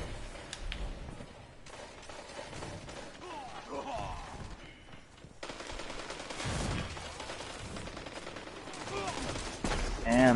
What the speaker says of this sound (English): Why does that gun sound stupid, like different?